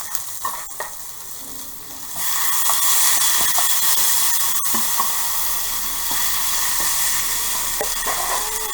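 Beef searing in a hot wok on an electric stove, a steady loud sizzle that swells as the meat goes in and then holds, with some stirring scrapes.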